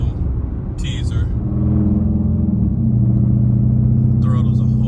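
A Dodge Charger SRT engine idles with a deep, steady rumble, then swells into a louder, sustained rev that stays strong to the end, with brief bursts of talk over the top.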